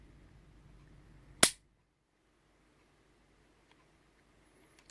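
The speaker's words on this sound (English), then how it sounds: "let's go ahead and show you what that trigger pull is like if you listen" A Ruger Mark IV Target .22 pistol dry fires with a single sharp, loud metallic snap of the trigger and hammer, followed by near silence and a couple of faint clicks.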